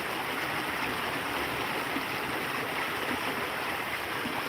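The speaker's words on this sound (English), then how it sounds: "this water's typical spring water, about that fast" Fast-flowing shallow spring-water stream in northern Michigan woods, a steady, close, broadband rushing and burbling of water with constant loudness and no talk.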